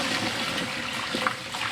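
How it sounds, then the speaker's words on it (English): Blanching water is poured out of a pot in a home kitchen, a steady trickling, splashing stream running continuously and fairly quietly, with no talk over it. "So what I'm going to do is just pour out the water"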